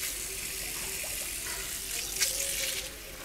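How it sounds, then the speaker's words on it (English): Water runs from a tap in a hair salon during a hair treatment rinse, a steady close hiss of flowing water with slight splashing variation, quiet and continuous. "so turn the water on."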